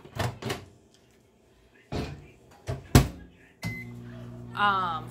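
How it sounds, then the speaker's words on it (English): A microwave door thunks shut with a few clunks, then the oven hums steadily, a beep or whir rising near the end. "I'm popping it in the microwave."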